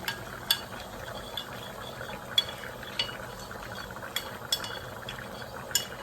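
A spoon stirs corn flour and water in a bowl, clinking lightly against the sides in irregular taps over a quiet, steady kitchen background.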